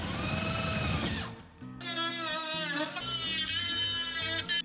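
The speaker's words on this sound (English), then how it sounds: "The first step was drilling holes into the bed." A power drill bores holes through the bed of a 1987 Jeep truck for a sport bar install, its motor whining steadily with pitch shifts, a brief stop, then resuming under the load of the metal.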